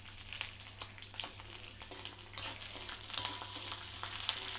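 Green chilies fry in an iron pan, making a low, crackling sizzle with small pops and occasional stirring scrapes that grow slightly louder toward the end, with no voices.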